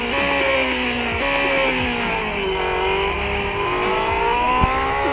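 A Porsche 918 Spyder Concept races in a video game, its engine revving loudly and steadily with rising pitch sweeps through gear changes, close and continuous from start to end.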